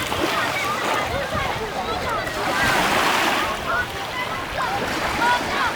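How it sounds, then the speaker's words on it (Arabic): Sea waves wash onto a beach in a continuous hissing surf, with swelling crashes and some wind buffeting the microphone, while a voice talks over it. "ها هو البحر ها هو هنايا البحر"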